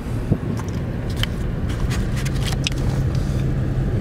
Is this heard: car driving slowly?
yes